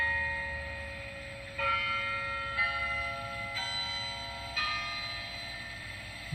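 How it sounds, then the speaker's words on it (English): Rigged bells ring out in a series of four clear, spaced strikes, each tone ringing on over a low steady hum, with no talking. "what do you think of them bells, right?"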